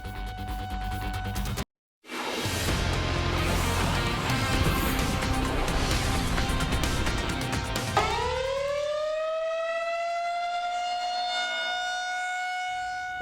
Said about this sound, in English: They're called outdoor warning sirens for a reason.